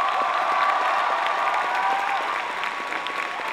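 Crowd at a cosplay event applauds the event staff with loud, dense, continuous clapping and a general crowd murmur, sustained evenly for the whole stretch.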